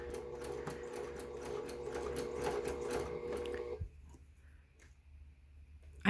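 A sewing machine runs steadily across mismatched garment seams, its rapid rhythmic needle clatter close and even for about four seconds before stopping, leaving a quiet room with a faint click at the end.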